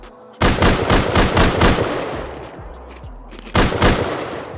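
Automated turret in the game Rust fires loud rapid bursts of gunfire, a long rattling volley echoing out, then a second burst after a short pause, close and dominant with no talk.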